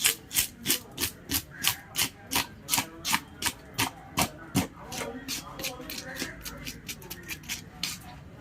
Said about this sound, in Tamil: செதில் நீங்கள் கொஞ்சம் கொஞ்சமாக அடித்தா தான் நீட்டாக வரும்.